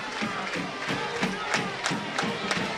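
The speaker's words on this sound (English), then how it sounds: "That woke up the crowd here on the near side, the home folks, in this one." A home crowd cheers and shouts at a high school football game between Wausau East and Wausau West, a dense sustained roar with scattered yells.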